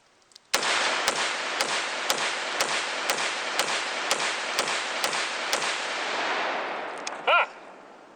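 A mud-covered AR-style rifle with a BCM upper fires a rapid string of about ten sharp, loud shots at an even rhythm outdoors, with a short mechanical clatter near the end.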